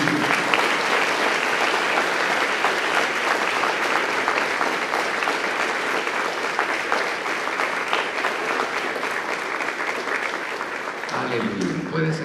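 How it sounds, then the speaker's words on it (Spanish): Church congregation applauding during a worship service, dense sustained clapping from a large crowd, loud and continuous, fading slightly at the very end. "Démosle un aplauso a Jesucristo"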